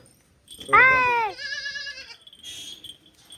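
A goat bleats once, loud and close, a wavering cry of about half a second, followed by a shorter, fainter bleat and some background noise.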